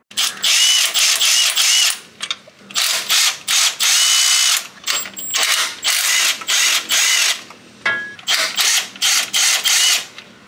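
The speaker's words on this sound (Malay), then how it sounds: "Bila last nut dah buka, sekarang barulah kita boleh keluarkan mounting yang belakang ni." A power tool buzzes as it loosens the rear engine mounting nuts, size 14, on a Perodua Kelisa. It comes in loud, close, repeated bursts with short pauses between them, and ratcheting whirs are heard.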